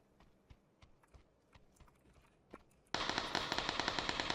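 Rapid automatic gunfire in PUBG erupts loud and dense after a stretch of scattered sharp in-game shots and clicks, the sustained burst continuing to the end.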